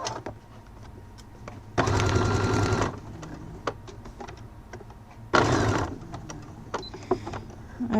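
A home sewing machine stitching inside the fold of bias binding through thick layers, running in two short loud bursts separated by quieter pauses with scattered clicks and handling.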